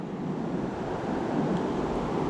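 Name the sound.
fast moving river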